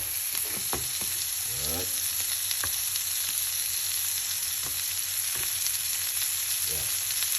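Butter sizzles steadily in a frying pan with steak for a garlic-butter steak, a continuous crackling hiss with a few sharper pops and scrapes; one brief word is spoken.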